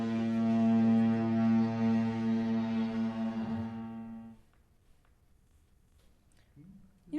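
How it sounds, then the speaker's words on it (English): A cargo ship's foghorn sounds one long, steady, deep blast for about four seconds, then cuts off, leaving near silence with faint stirrings. "A cargo ship foghorn blows."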